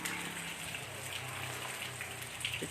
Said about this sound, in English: all you could hear is the sounds of the rain